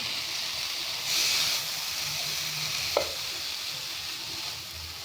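A soy sauce mixture being stirred in a hot pan, with a steady close sizzle and soft stirring scrapes running throughout and one sharp clink near the end.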